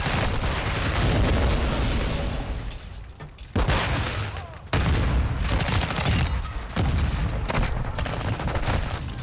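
AC-130 gunship fire in Call of Duty: Modern Warfare brings a dense, unbroken barrage of heavy booms and rapid gunfire. It is loud and constant, with a couple of brief dips.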